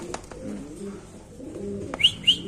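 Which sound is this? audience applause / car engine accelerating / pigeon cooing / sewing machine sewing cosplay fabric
pigeon cooing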